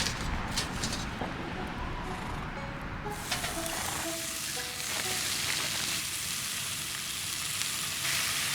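Breakfast sizzles and crackles in a hot pan with a constant hissing spatter, close by, with a few faint clinks and higher tones mixed in.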